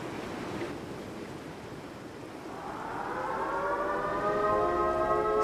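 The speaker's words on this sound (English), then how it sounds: "Sirens?" A civil defense siren in the video game Life is Strange: True Colors wails, fading in beneath a rushing, windy background, rising and growing steadily louder, with no talk.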